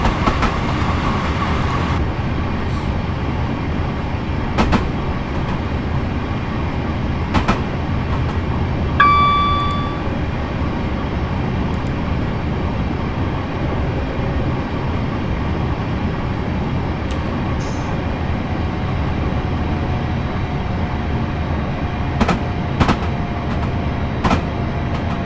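A Train Simulator 2018 train runs on the Waterloo to Portsmouth Harbour line near Clapham Junction, a steady close rumble throughout with a few brief tones around the middle and a faint drawn-out tone later, with no talking.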